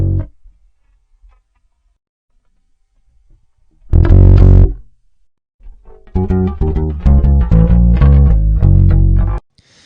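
Bass guitar through a Glou-Glou Flancher 9 flanger pedal, a swirling, jet-like modulation: a single plucked phrase, a pause, then a longer run of notes, loud and alone.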